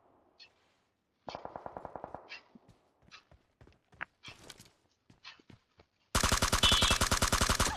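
Video-game gunfire in a battle royale match: sparse single shots and short automatic bursts give way to a loud, sustained rapid-fire burst near the end, with faint footstep-like taps between volleys and no speech.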